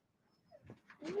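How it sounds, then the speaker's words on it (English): A dog whines close by in a short, quiet burst of rising whimpers and soft panting that grows louder toward the end, with no talk over it. "Why are you whining? You're the big boy dog."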